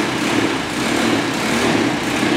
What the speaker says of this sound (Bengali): এই বাইকটা সেলফে স্টার্ট দিয়ে নিতে পারবেন